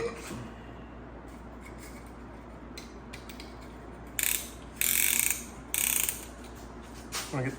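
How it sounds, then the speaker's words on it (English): A piston ring compressor is tightened around the rings of an engine piston during a rebuild, giving several short, loud metallic ratcheting clicks in bursts over a low steady background hum. "This crimps all these rings to the piston, so that way we can get it in the hole"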